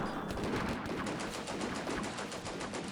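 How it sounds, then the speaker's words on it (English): Machine gun fire in the wartime strategy game Combat Mission, including a Maxim machine gun: rapid, sustained bursts of shots rattling continuously, dense and fairly loud with no pauses. "Man, the gunfire is just crazy."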